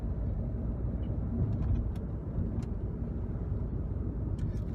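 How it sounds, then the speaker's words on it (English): A Volvo C30 rolls over speed bumps, heard from inside as a steady low road and engine rumble with a few faint knocks and rattles scattered through it. "we are going over some speed bumps"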